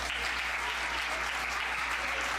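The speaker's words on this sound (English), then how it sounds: "let's give a big round of applause to these students" Steady, dense applause from a crowd at a board of education meeting, continuous clapping throughout with no pauses.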